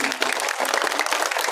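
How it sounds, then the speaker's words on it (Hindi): An audience at an evening stage event claps in a loud, dense burst of applause, steady and sustained through a brief moment with no talk over it. "सबके लिए जोरदार तालियां"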